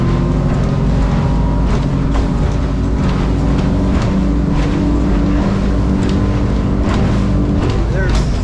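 A North River 25 motorboat running at speed, about 6,000 RPM and 45 miles an hour, with trim tabs set. A loud, constant engine roar mixes with rushing water, and faint slaps and bumps from the hull come through.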